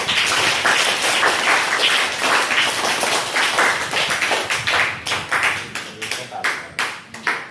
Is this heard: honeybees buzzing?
no